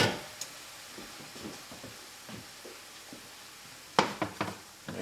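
Butter sizzling with noodles in a hot pan for seafood pasta: a faint, steady frying hiss under scattered close clicks and taps of a utensil against the pan, with a quick cluster of sharper knocks near the end, no talking.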